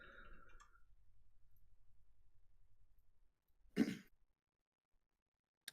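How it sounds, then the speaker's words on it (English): A congested person clears their throat with one sharp, rough cough-like burst after a stretch of low rumbling background, followed by near silence. "sorry if I'm coughing a lot. I'm a little bit congested right now."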